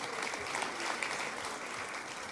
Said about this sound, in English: How about a nice round of applause, everybody, for them?